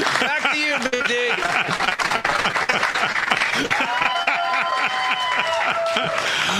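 Audience applause and cheering at a live news show event, a dense crowd clapping steadily throughout with laughter and voices mixed in over a faint tonal background.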